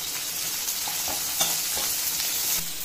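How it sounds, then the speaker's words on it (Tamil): Steady sizzling of onions and curry leaves frying in a hot pan, with occasional stirring scrapes, close and unbroken. "எல்லாத்தையும் நல்லா வதக்கிக்கலாம்."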